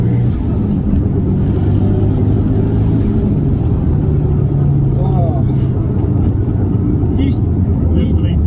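A Subaru Impreza WRX STI with a 2.1-litre stroker engine rumbles continuously from inside the car, its steady drone rising slightly under hard acceleration, with occupants talking over it.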